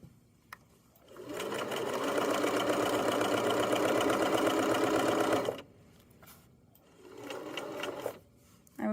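Sewing machine stitching the hood facing of a Kwik Sew K3045 hoodie, one long loud continuous whir of about four seconds, then a quiet pause and a shorter second run, close-up with no speech.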